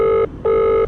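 A telephone rings in two long electronic bursts separated by a short gap, loud and close, with no voices.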